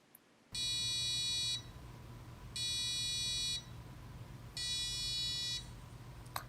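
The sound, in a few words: Arduino-driven buzzer beeping on and off repeatedly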